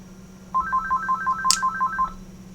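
A telephone rings with a rapid electronic trill of evenly spaced beeps for about a second and a half, fairly clear over a low background hum, with a brief click partway through.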